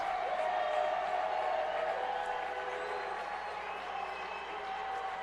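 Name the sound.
high school football home crowd cheering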